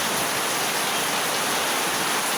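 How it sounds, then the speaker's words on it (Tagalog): Dense, steady rushing noise of heavy rain, with a broad roar that suggests strong gusting wind, continuous throughout with no voices. "Yan, ang lakas ng hangin."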